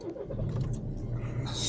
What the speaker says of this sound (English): If you turn the car on right now, which I'm doing it.